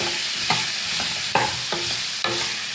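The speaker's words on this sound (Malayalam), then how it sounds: "എന്നിട്ട് നമുക്കൊന്ന് ഇളക്കാം." A spoon stirs rasam in a pot, coriander leaves just added, giving several evenly spaced scraping strokes over a soft simmering sizzle, close and clear with no voices.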